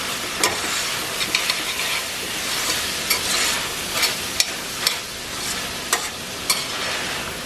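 Meat filling with cilantro and tomato sauce is stirred in a hot pan for plantain empanadas, giving a steady sizzle punctuated by regular sharp scrapes and taps of the utensil.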